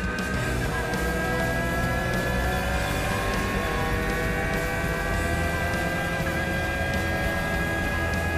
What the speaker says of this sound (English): heads us onto some faster sandy track where he opens up the UTV and gives me a sense of its speed